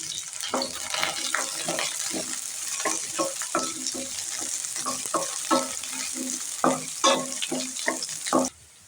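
Garlic, shallots and ginger frying in oil for Tamil Nadu kara kuzhambu, a close, continuous crackling sizzle broken by repeated stirring scrapes, ending abruptly.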